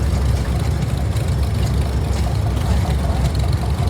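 A 1948 Case LA propane tractor engine idles steadily at an outdoor engine show, a loud, continuous low rumble with an even throb throughout.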